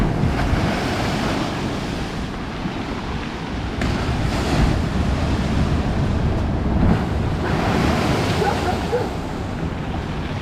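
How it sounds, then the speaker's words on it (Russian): Big storm waves crash and surge along the Yalta seafront in winter, a continuous loud roar of surf with swells building and breaking close by, mixed with gusty wind noise on the microphone. "Но пока вот идет большая волна"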